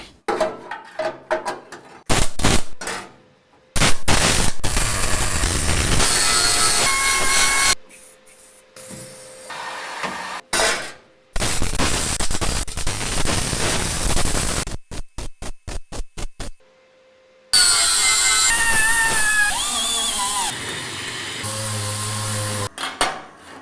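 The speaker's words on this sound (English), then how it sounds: "So without further ado, let's get it welded in." Welding in a roll cage mounting point on a Datsun 240Z restomod: loud, harsh crackling hiss in repeated bursts of several seconds, broken by abrupt gaps and cuts, with some clanking and tonal sounds in between.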